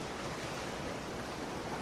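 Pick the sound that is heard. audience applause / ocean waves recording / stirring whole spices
ocean waves recording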